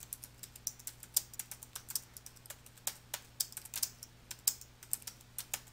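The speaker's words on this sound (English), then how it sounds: "Click at the point where you want to begin typing and then type your text." Keystrokes on a computer keyboard typing text, a steady run of crisp clicks at an irregular rhythm, close and alone over a faint low electrical hum.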